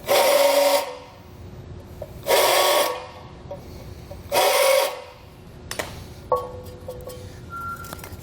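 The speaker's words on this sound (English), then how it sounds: "That'll get some of the burrs off and make it clean." Metal edges of a light mounting box deburred with a hand tool: three separate harsh scraping strokes, each about a second long, with clicks and handling noise afterward.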